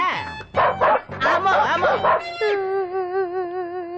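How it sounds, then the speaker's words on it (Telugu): Several dogs bark and yelp in quick bursts, then one long, wavering howl carries on alone, close and fairly loud, in a Telugu film comedy scene. "అటు చూడు కుక్కలు"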